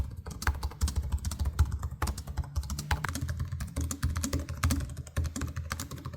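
Typing on the keyboards of a Razer Blade 14 and a 2025 Zephyrus G14 gaming laptop gives quick, irregular clicky keystrokes, close and fairly soft, with no talking.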